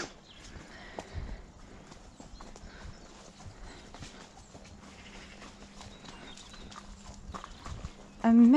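A young horse being ridden for the first time walks on, its hooves clip-clopping in a steady, fairly close rhythm, with a rider speaking quietly over the footfalls.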